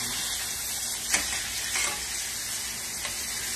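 Steak for steak pizzaiola sizzles steadily in a pan, a continuous close frying hiss with a few soft bumps from stirring or turning, and no talk.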